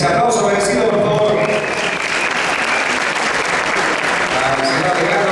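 Loud, sustained applause from an audience at an artists' recognition ceremony, a thick, even roar of clapping from start to finish.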